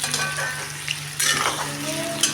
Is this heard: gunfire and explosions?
no